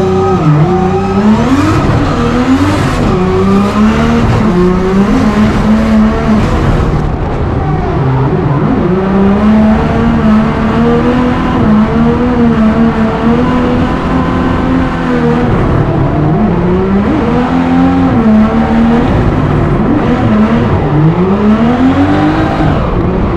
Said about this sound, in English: Ferrin is just such a solid chase driver, keeping that car right on Matt Harvey's door.